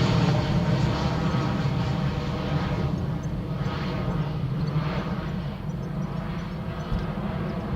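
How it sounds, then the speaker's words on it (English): A Ryanair airliner lines up on the runway at Dublin Airport, its jet engines producing a broad, steady roar that fades slightly toward the end. "Ryanair lining up for Newquay."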